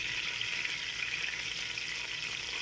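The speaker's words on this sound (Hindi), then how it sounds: "इसमें अभी ऐड करेंगे तो 5 मिनट के लिए फ्राई करेंगे" Sliced okra fries in oil over a low flame, giving a steady, dense hiss that carries on without a break.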